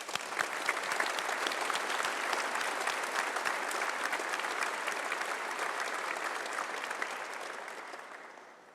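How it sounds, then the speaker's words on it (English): A large audience at a university graduation ceremony gives sustained, dense applause for several seconds, even and full throughout before tapering off at the end. "So please join me in a round of applause to thank all those who have helped you through your"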